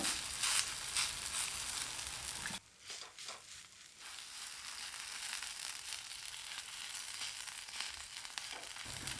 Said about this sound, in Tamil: சுற்றிலும் கொஞ்சமாக எண்ணெய் விட்டுக்கலாங்க மீடியம் ஃப்ளேமில் நல்லா வெந்து வரட்டும்